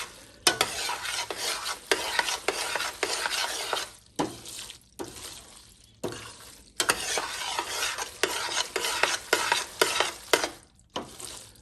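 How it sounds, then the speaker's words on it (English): Boxed macaroni and cheese mixed with tuna stirred in a pot, giving a near, steady scraping and wet churning that comes in bursts separated by brief pauses, with no voices. "I'll give that a good stir"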